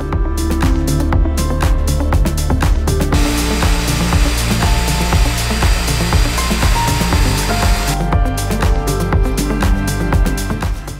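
Power sanding of the interior surfaces in a van conversion: a loud, continuous whirring grind with rhythmic scraping pulses, heard close up and alone for about eleven seconds.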